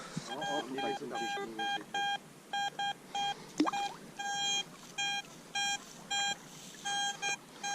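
A metal detector searching for a gold wedding ring gives short, bright electronic beeps in a steady repeating pattern, close and clear, with a brief voice and a scrape in the middle.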